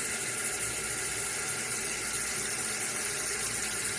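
Tap water pours steadily and close by into a pot of potatoes, a continuous broadband rush with no pauses and no speech, ready for boiling Irish colcannon potato cakes.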